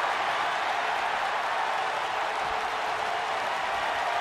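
Arena crowd at a wrestling title match in the video game WWE 2K19 roars and cheers in a steady, dense wash of noise that holds evenly from start to finish.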